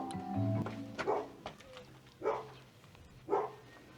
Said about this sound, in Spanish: Se escuchan los perros detrás.